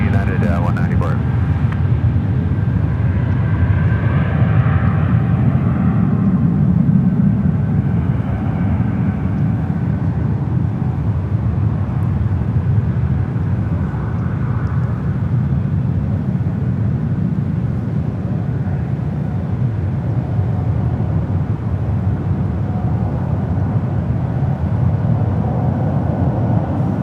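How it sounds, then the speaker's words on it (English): A Delta Airbus A320 jet rolling down runway one right at San Francisco airport, a loud sustained low engine rumble throughout with faint radio chatter and talk mixed in. "Airbus A320 300 with Delta rolling down to one right"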